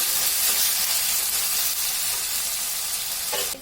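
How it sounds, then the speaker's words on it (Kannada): Three chopped tomatoes with ginger-garlic paste fry in a hot pan, giving a loud, continuous close-up sizzle with no talking. "ಕಟ್ ಮಾಡ್ಕೊಂಡಿರೋದು 3 ಟೊಮೊಟೊ. ಚೆನ್ನಾಗಿ ಫ್ರೈ ಆಗಲಿ."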